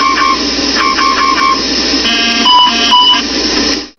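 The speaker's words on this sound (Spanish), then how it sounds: "Seguidamente sonaron la alarma Master Caution y la Master Warning" Aircraft cockpit Master Caution and Master Warning alarms sound loudly at close range, a repeating electronic chime giving way to a steady beeping tone that cuts off abruptly.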